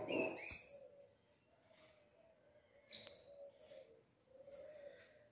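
Blue grosbeaks (azulão) chirping while feeding on a farinhada mix, three short clear calls spaced a couple of seconds apart, near and alone against a quiet background.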